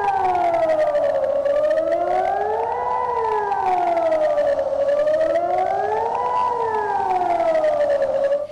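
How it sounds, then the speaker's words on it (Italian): A civil defense alarm siren sounds during a siren test in Marghera, Italy. It rises and falls in a slow continuous wail, loud and sustained across the whole stretch with no voices. "Le sirene hanno suonato per 3 volte consecutivamente"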